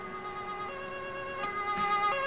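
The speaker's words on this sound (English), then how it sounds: "Oh, ambulance." An ambulance siren from a PC police simulation game, Police Force 2, wails steadily at moderate volume with no talk over it, and a few brief clicks or bumps show up near the end.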